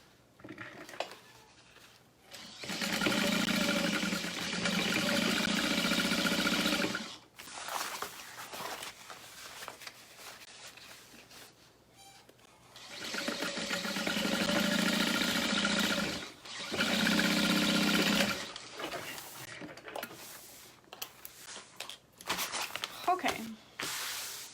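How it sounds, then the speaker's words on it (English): A sewing machine top stitching fabric pieces for a bag runs in two long sustained bursts, loud and close, with quiet pauses and handling noises between them. "And then we're going to top stitch."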